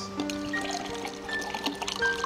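Water pours from a bottle in a steady, quiet trickle with faint clinks close by, and no speech over it.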